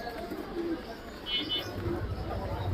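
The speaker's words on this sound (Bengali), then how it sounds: "একদম ঝুটি নিয়ে হচ্ছে ও ফিমেলকে হচ্ছে ডাকতেছে" A crested pigeon at a pigeon market coos to a female in a few soft, low calls, with people talking nearby and market babble around it.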